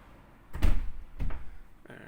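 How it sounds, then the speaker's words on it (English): A door at a studio apartment in Batumi swings shut with a couple of soft thuds close by, followed by a faint click, with no talking. "that's the door closing behind us"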